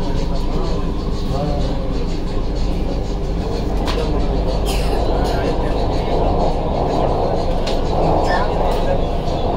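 A ride inside a metro train: a loud, steady rumble and rattle of the carriage in motion throughout, with faint voices and occasional squeaks over it.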